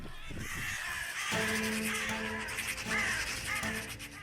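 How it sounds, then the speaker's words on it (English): Young jackdaws calling out in panic during a hawk attack, harsh repeated caws and cries layered over a busy, noisy background. "leaving the surrounding young jackdaws to only cry out in panic without being able to do anything"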